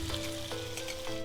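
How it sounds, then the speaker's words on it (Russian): Pork ribs frying in oil in a kazan, a steady close sizzle and crackle running throughout with no talk. "Пускай они обжариваются. Будем обжаривать до золотистой корочки."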